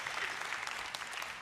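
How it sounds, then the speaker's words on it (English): Audience applause in a large hall during an afternoon business keynote in London, a steady wash of many hands clapping at moderate distance, with no voices. "we need to take the applause in"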